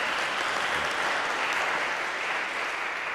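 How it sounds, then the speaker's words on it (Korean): A church congregation applauds together at a Sunday worship service, producing a dense, even wash of clapping that holds steady and fairly loud from start to end. "큰 박수로 환영해"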